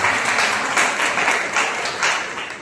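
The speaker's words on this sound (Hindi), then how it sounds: "एक जोरदार ताली बजाए परमेश्वर।" A congregation at a Sunday church service breaks into loud, sustained applause, a dense wash of many hands clapping together with slight swells in intensity.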